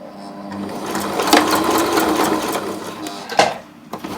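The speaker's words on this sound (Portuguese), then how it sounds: "Eu vou começar com o retrocesso." A sewing machine stitches steadily while sewing a bag, opening with a short backstitch, then running in a continuous close, even whir with brief pauses and a quick restart near the end.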